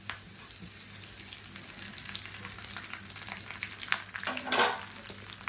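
A handful of washed curry leaves frying until crisp in hot oil in a kadai, a soft steady crackle and sizzle with a few stirring scrapes and one brief louder burst near the end.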